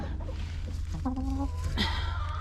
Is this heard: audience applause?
no